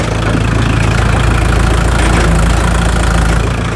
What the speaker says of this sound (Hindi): इतनी ज़्यादा साइलेंट आवाज़ है ट्रैक्टर की